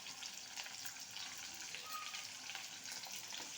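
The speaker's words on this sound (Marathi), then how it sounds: "याला चांगलं फ्राय करून दिलं आणि याच्यामध्ये आपण टाकत आहोत कांदा" Two medium chopped onions and cloves fry in hot oil in a pan, giving a steady, close, even sizzle with a faint crackle and no talking.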